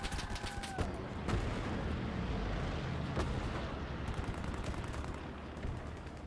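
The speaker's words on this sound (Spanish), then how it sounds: "Como sea artillería, lo que está disparando aquí" Booms and gunfire from the World War II shooter Hell Let Loose roll through a continuous battle din, with a sharp blast near the start and several more cracks and rumbles spread across the stretch.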